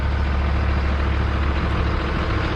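A 1963 White semi truck engine runs steadily at idle, a loud, constant low diesel rumble with no breaks and no voices.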